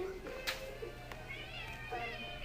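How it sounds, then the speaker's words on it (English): A pet cat named Dee Dee meows faintly a few times, wanting back inside, with soft room noise and a quiet voice in the background. "Does the kitty want back in?"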